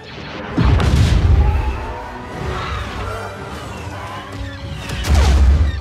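Heavy blaster fire pounds a reactor in Star Wars Battlefront 2, loud booming bursts opening and closing the passage with rumbling, crackling battle noise between.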